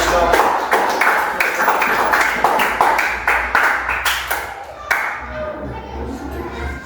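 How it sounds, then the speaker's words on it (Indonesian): A class of students claps together after a group reflection presentation. The sharp, rhythmic hand claps are close and loud, then thin out into scattered claps and fade near the end. "Oke, tepuk tangan dulu"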